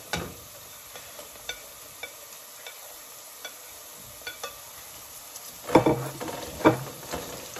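Green chili, ginger and garlic frying in a pan over a low-to-medium flame, a soft steady sizzle punctuated by scattered scraping taps and two louder stirring clatters near the end.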